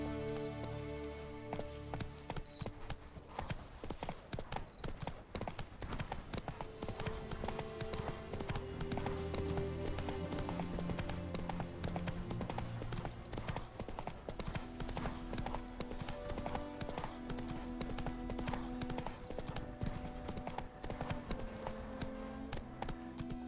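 Hooves of the horse Roach clip-clop steadily at a gallop in Witcher 3 Wild Hunt, a fast, continuous rhythmic patter heard over game music throughout.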